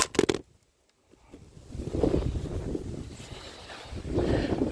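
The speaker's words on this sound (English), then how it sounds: "It's windy out here and it blew the tripod over." Gusty outdoor wind buffets the microphone in low rumbling surges that swell and fade, after a brief sharp knock and a short near-silent gap at the start.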